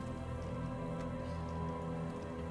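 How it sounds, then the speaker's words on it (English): Steady rain in the Disco Elysium video game, a constant, even wash of falling water with a low hum beneath it, moderately quiet and unbroken throughout. "And it keeps raining, then snowing, then raining."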